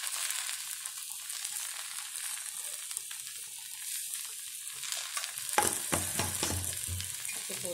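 Sliced okra (lady's finger) sizzles steadily in a hot pan for a South Indian poriyal, with a few scraping stirs of a spatula near the end, close and fairly loud, no voices.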